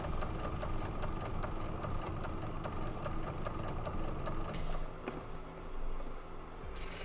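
A sewing machine stitches a quilt project in rapid, steady mechanical bursts, close and fairly quiet, with a brief slowdown and pause near the end.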